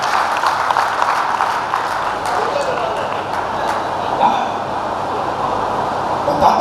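Audience applause at a Hindi comedy poetry show at the Meerut Nauchandi fair, a dense, steady wash of clapping from a large crowd that holds for several seconds with slight swells.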